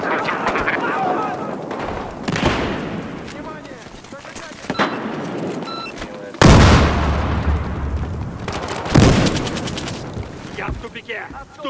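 Grenade blasts and gunfire in the Battlefield Hardline video game: sharp, loud booms ring out near 6.5 and 9 seconds amid scattered shots and busy battle noise, with voices shouting across the fighting.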